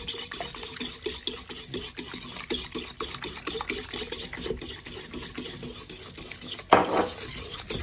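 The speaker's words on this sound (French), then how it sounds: "on a remué rapidement avec le petit fouet" A small whisk beats eggs and sugar in a bowl for a marble cake, a fast steady run of light clicking taps against the bowl, close and moderately quiet, with a louder clatter near the end.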